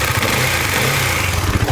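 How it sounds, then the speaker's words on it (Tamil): KTM Duke 250 BS6 motorcycle from 2020, its single-cylinder engine idling steadily up close, a loud continuous low thrum with no voices. "ஃபஸ்ட்டு வந்து இன்ஜின் சவுண்ட் பார்த்துருவோம்."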